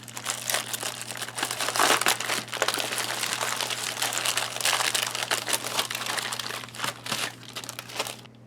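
The plastic bag of an MRE, Beef Taco Menu #6 from 2018, crinkles loudly and close up as it is torn open and handled, a dense, continuous rustle lasting several seconds.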